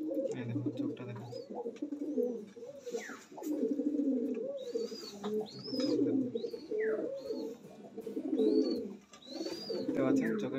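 A flock of red-eyed high-flying pigeons coos steadily and close by, with rolling throaty calls layered together and occasional thin, high chirps overhead.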